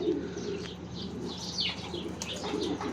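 Pigeons coo in a low, repeated murmur throughout, with brief higher chirps and tweets from other birds mixed in nearby; no one speaks.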